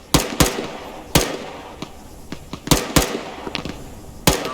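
Sharp gunfire bursts and single cracks ring out in an Arma 3 firefight, several loud close pops spaced irregularly with fainter distant shots between them, and no talk.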